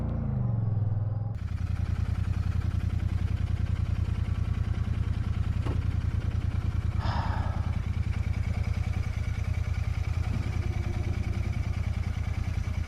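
A Royal Enfield Shotgun 650 motorcycle engine runs steadily while riding, a loud continuous low rumble with a brief softer start before it settles into a constant drone, no talk.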